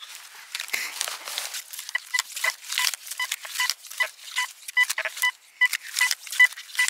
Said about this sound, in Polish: Piękny sygnał, konkretny, także wykrywacz to widzi, daje radę.